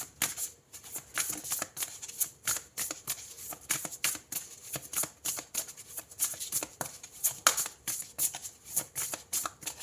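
Tarot cards are shuffled and handled in quick repeated riffling bursts, crisp papery flicks and slaps in an irregular rhythm, close and fairly soft, with no talk over them.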